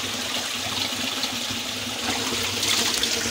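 Water flows steadily in a stream running through an unexplored village, a continuous close, loud rushing and babbling.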